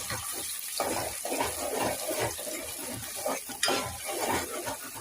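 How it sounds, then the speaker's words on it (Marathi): Onion fries in ghee for biryani, giving a continuous close sizzle with repeated scraping stirs and a sharper clink partway through. "कांदा चांगला लाल होईपर्यंत आपल्याला तो भाजायचा आहे"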